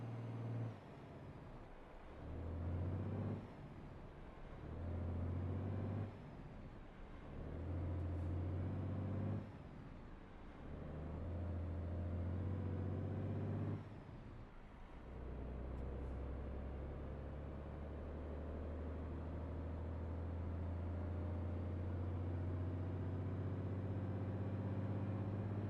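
A heavy truck engine in a trucking game, hauling roughly 133,000 pounds, revs high on takeoff: repeated loud rising roars broken by brief shift pauses, then settling into a steady low drone.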